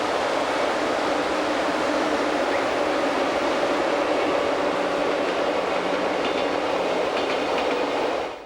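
The Glacier Express train runs on the Albula line, a loud, steady roar of wheels and carriages with a continuous rumbling hiss and faint rhythmic clatter, unbroken for the whole stretch before easing slightly at the end.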